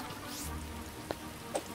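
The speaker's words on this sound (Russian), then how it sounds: "Ой, дождь, как ты вовремя, такой красивый вид был." Rain falling in Starbound, a soft, steady hiss of drops with a couple of brief louder pattering taps, faint and continuous without speech.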